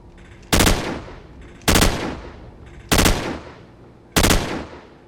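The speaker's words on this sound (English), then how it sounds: "Starting with the hip fire, we'll see how accurate this is after 4 rounds." Assault rifle hip fire in Call of Duty 4, four loud, evenly spaced single gunshots about a second apart, each with a short ringing tail, close and clear with no talk.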